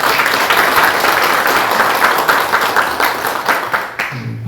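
An audience at a forum breaks into sustained, loud applause, dense clapping filling the room before tapering off at the end.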